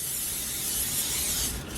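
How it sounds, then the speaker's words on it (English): Cooking oil sprayed from a can onto a foil-lined pan, a close, steady aerosol hiss lasting under two seconds and easing off at the end. "Okay, I take some spray oil."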